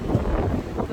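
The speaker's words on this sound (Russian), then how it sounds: "Очень холодный ледяной ветер." Cold, icy wind buffets the microphone on a Black Sea beach at Kudepsta, Sochi, a steady low roaring rumble filling the whole moment with no voices.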